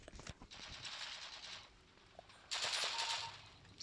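Automatic gunfire from a gun in the video game Counter-Strike: Global Offensive, two loud sustained bursts of rapid shots, the second louder and starting after a short pause.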